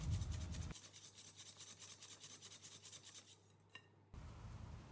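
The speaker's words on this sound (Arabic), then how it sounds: "وببلش فيهم خفق، بخفقهم لحتى يفتح اللون عنا." Eggs with a splash of vanilla whisked in a bowl for an almond-flour cake, the whisk scraping and clinking in a fast, steady rhythm for several seconds before stopping.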